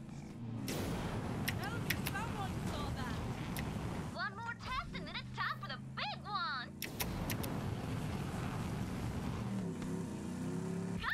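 A car driving in Borderlands 3, a steady engine drone with whining and rattling bursts that rise and fall, heard under ongoing talk from players.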